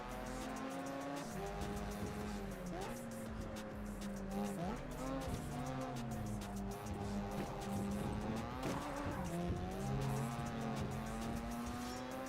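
A loud racing car engine in the video game JDM revs and shifts gears continuously, with tires squealing through corners, all up close and never letting up.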